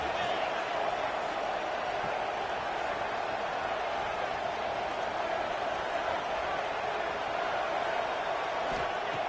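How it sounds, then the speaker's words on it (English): Stadium crowd in a Madden football video game, a dense, steady roar that holds at an even level throughout with no clear individual voices standing out. "Listen to the crowd energy here in the early going."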